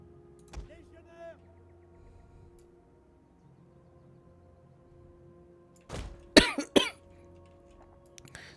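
A man with a cold coughs several times, a single cough early on then a close, loud burst of coughs and throat clearing near the end, over quiet background hum.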